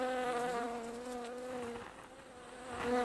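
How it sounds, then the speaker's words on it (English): Bees buzz around flowering corn on a farm, a steady close insect drone with wavering tonal hum running unbroken for about three seconds, swelling slightly at the end. "Hear the bees?"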